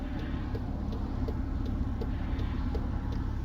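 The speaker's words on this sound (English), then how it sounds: "More cars coming." Steady traffic noise from cars on a busy main road on a Friday afternoon, a continuous engine and tyre rumble with vehicles passing at middle distance and no voices.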